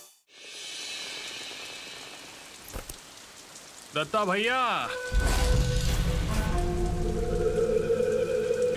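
Heavy rain pours down at night in a steady, broad hiss that swells louder partway through, with a brief warbling tone before it and a voice speaking over it.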